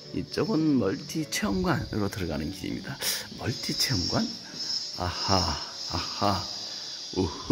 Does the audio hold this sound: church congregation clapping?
no